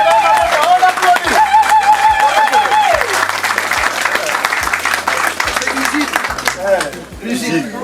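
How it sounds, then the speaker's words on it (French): Guests at a dowry ceremony break into sustained applause mixed with crowd chatter, laughter and a rhythmic low drumbeat, with an amplified voice speaking over it. "On applaudit s'il vous plaît."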